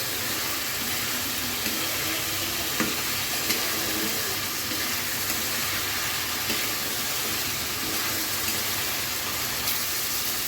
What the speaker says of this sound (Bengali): এরপরে হচ্ছে আস্তে আস্তে মাছগুলোকে কষিয়ে নেব সময় নিয়ে, যাতে মাছের গায়ে মশলাটা ভালো মতন ঢুকে যায়